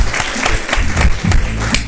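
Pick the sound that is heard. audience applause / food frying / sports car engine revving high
audience applause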